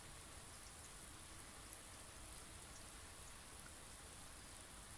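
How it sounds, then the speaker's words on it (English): Steady rain falls continuously on surfaces, a soft, even hiss with faint scattered drops and no voices. "at least you guys got to listen to the nice, relaxing rain sounds"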